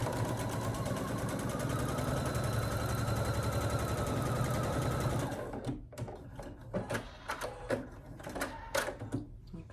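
A sewing machine runs a continuous, fast mechanical whir as it stitches a quarter-inch seam across the bottom of a fabric basket, then stops, leaving a series of scattered clicks and handling taps.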